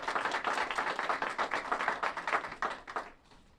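Audience applause at a county community event in Saginaw, steady dense clapping from a crowd that fades out near the end.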